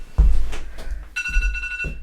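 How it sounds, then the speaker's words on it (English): A phone alarm rings with a bright electronic tone that starts partway through, close and clear over low background thumps and noise. "What did you set your alarm for?"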